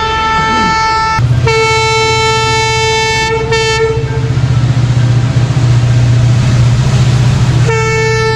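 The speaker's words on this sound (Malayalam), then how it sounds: "അവിടുന്ന് വേറെ ട്രെയിൻ വരുന്നുണ്ടോ?" A train runs through a station, its loud horn blaring in long blasts over a heavy rumbling roll of wagons clattering past close by, the horn sounding again near the end.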